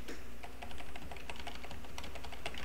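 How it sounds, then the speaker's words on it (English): Fast spam clicking on a computer mouse and keyboard while taking screenshots during a game, a dense continuous stream of sharp clicks over steady background noise. "You guys can actually hear my spam clicking."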